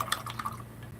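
Water rinsing over a gelli printing plate, a soft splashing trickle with a few brief drips, steady and close, with no talking.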